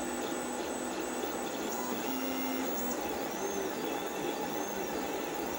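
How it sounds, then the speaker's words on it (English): A Tevo Black Widow 3D printer with stepper motors printing, giving a steady whirring hum with faint whining tones that glide up and down, continuous and close throughout. "we are at the limit of what a stepper motor-driven printer can produce with this machine"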